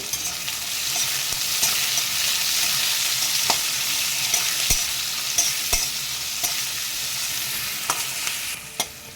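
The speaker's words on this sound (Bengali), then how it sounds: "এবার এগুলোকে হালকা নাড়াচাড়া করে নেব" Onions frying in a pan and stirred with a spoon, a continuous close sizzle broken by sharp scrapes and taps of the utensil against the pan.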